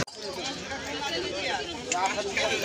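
A crowd babbles at the Patal Baba temple, with a steady murmur of many overlapping voices at moderate distance filling the whole short stretch.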